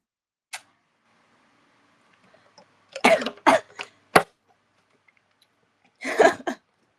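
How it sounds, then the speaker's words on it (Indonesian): Person coughing indoors: a brief isolated hack, then a cluster of several rough coughs, a single sharp one and a final burst, close and moderately loud against near silence. "Udah mau batuk."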